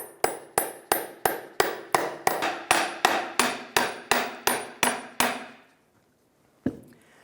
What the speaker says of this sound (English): I'm going to slide the U-joint over this way and tap this side here.